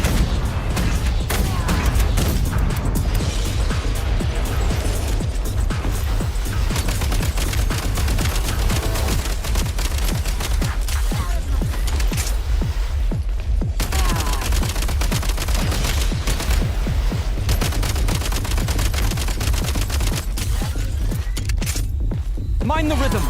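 Video game combat in Genshin Impact crackles with rapid gunfire bursts and booming grenade explosions, a dense and loud barrage that continues without a break, with a voice speaking over the action.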